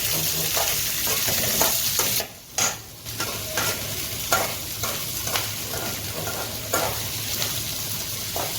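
Onions and garlic fry in a pan of oil for an onion chutney, a steady close sizzle broken by repeated scraping stirs and a brief dip near the middle, with no one speaking.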